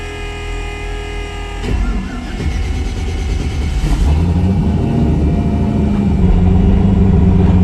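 A 700 HP twin-turbo 8-rotor Mazda RX-7 pulls hard from low revs, its engine note climbing and growing louder and rougher through the pull, heard close from inside the car.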